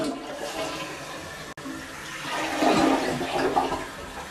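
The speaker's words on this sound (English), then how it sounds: "It's time for the first flush." A newly installed toilet set on a concrete floor flushes for the first time, a close rushing swirl of water that builds and gurgles as the bowl drains, with no one speaking.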